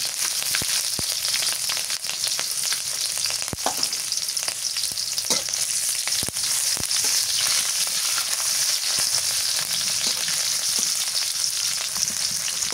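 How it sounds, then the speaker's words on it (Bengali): Green chilli and chopped onion fry in hot oil with whole cumin seeds for a village-style taro dish, giving a loud, steady sizzle with occasional scraping stir clicks throughout. "দিয়ে দিই কাঁচা মরিচ আর পেঁয়াজ কুচি"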